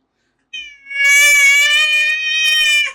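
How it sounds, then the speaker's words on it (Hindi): A domestic cat lets out one loud, close meow, rising and held for about two seconds before trailing off, with no other sound around it. "बिल्ली थी।"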